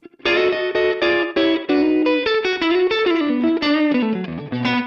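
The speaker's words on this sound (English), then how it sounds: "A little bit of kind of slap echo." A guitar played through a NUX Mighty Plug Pro MP-3 headphone amp preset with slap echo gives rapid picked notes and descending phrases, each note trailed by a short repeat, loud and close with no talking.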